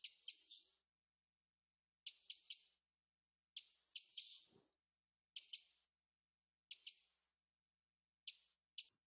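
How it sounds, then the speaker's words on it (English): Individual songbird chirps recorded in a quiet natural setting, short sharp bursts in pairs and triples spaced by silence, clean and isolated with no background noise. "So those are just individual, like, bird chirps."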